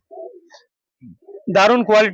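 A Bazi (ghor) pigeon gives soft, low coos near the start, followed by someone speaking loudly close by.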